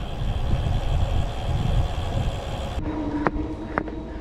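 A train's low rumble fills the first few seconds at Trieste Airport station, then drops away to a quieter hum broken by a couple of sharp metallic clicks.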